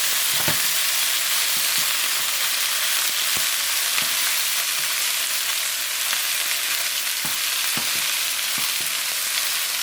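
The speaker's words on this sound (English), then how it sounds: "It's frying up pretty good." Chicken wings sizzle steadily in a hot pan, a loud continuous crackle with occasional sharper pops and stirring clicks, no voices over it.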